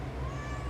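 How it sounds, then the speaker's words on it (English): A pet cat gives a single short, close meow lasting under a second, alone with nothing else heard. "I don't know if you can listen to my cat,"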